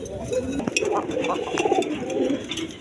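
Pair of coloured Golla Giribaj pigeons, large red birds, cooing steadily in repeated soft low calls close by, with faint background noise.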